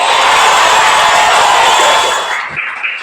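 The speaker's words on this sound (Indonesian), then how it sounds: "Tepuk tangan untuk kita semua." A classroom full of people applauding together: dense, steady clapping that fills the room, loud and close, fading out over the final second.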